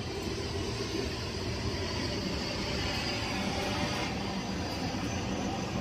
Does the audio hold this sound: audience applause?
no